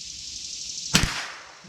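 A single sharp crack from a Glenfield Marlin Model 25 .22 rifle firing .22 ammunition, close and brief, with a short tail over a steady background hiss, no talk.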